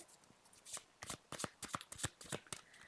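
A deck of tarot cards is shuffled close by in quick, crisp riffling bursts, several in a row.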